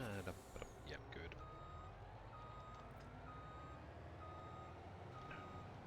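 Steady reversing beeps from a truck in a farming video game repeat at an even pace over a low engine rumble, with a brief voice at the start.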